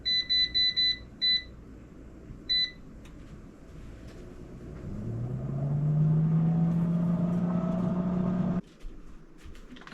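Countertop air fryer set to 350 degrees: a few short electronic beeps as it is switched on, then a steady fan whir that rises and hums loudly for several seconds before cutting off, with no talking.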